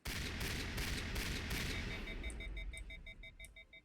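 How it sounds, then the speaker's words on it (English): Shotgun fire in the video game Mass Effect: a rapid burst of loud blasts for about two seconds, then electronic beeping tones repeating alongside fading rumble. "I just like firing my shotgun"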